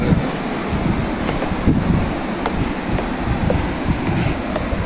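Ocean waves at a beach at low tide, heard as a constant roar of surf heavily mixed with wind buffeting the microphone.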